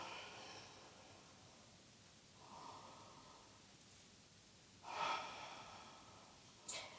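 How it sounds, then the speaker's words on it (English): Slow, deep breaths during a gentle yoga flow, with two soft audible inhales or exhales and a sharper breath near the end, faint and close against quiet background hiss. "Breathing."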